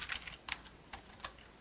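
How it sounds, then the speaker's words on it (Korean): A computer keyboard's keys, including the space bar, are pressed in a quiet run of about five separate close clicks with short gaps between them. "키보드 스페이스 키를 누르면 어떻게 되죠?"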